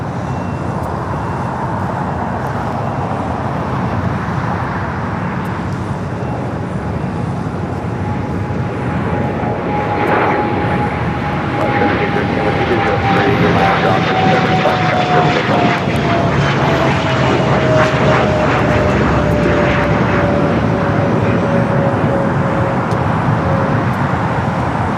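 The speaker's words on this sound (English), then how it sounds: "This aircraft, 28 years of age, delivered to Delta Airlines in February of 1998. It is the next heavy arrival on the north side." A 28-year-old Delta Airlines heavy jet arrives on runway 24 right at LAX, a loud, sustained engine roar with a slowly falling whine as it passes, over steady background traffic noise.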